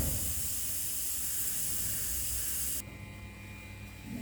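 Steady loud hissing jet of a pressure cooker whistling while coconut-milk biryani cooks, broad and continuous, then dropping abruptly to a quieter hiss with a low hum.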